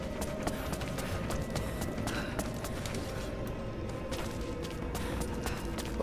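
A horse gallops in the video game Rise of the Tomb Raider, its hoof beats a steady, fairly close clatter that runs the whole time over a dense bed of ambient game sound.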